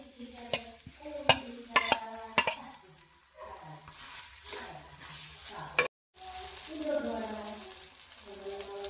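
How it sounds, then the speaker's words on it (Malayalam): Ginger frying in hot sesame oil for a kanthari chilli pickle: a soft sizzle with a run of bright spoon-on-pan clinks early on, then quieter stirring with a voice faintly present. "എണ്ണ ചൂടായി വന്നിട്ടുണ്ട് നമുക്ക് അതിലോട്ട് ഇഞ്ചി ഇട്ടു കൊടുക്കാം"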